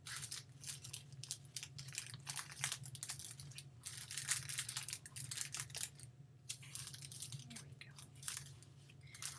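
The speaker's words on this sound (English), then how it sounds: "what I want to do is fold this plastic over." Plastic candy bar wrapper being folded over: faint, close, continuous crackly crinkling with soft irregular crunches throughout, alone.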